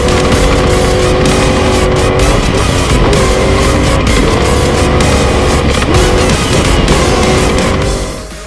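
Off-road race trucks roar away from the start line at the Mint 400 desert race, loud, sustained engine revs climbing and shifting close by, continuous throughout with no talk.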